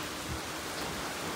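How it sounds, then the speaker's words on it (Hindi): Heavy rain pouring steadily outdoors, a dense, even hiss of falling water that fills the whole stretch without pause, with no voices over it. "बारिश जो है ना थोड़े टाइम में बहुत ज़्यादा हो गई है"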